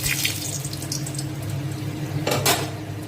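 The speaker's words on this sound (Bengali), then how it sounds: "তেল দিয়ে দিয়েছি সর্ষের তেল আর এবার দিয়ে দিচ্ছি এর মধ্যে শুকনো লঙ্কা" Dried red chillies sizzling in hot mustard oil give a steady, fairly loud frying hiss with a few brief crackling bursts near the end, and no voices.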